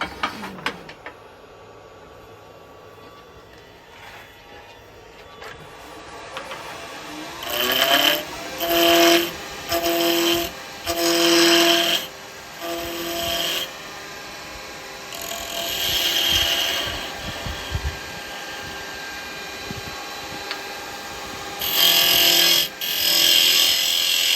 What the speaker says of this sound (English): I've got to sand the bottom of it first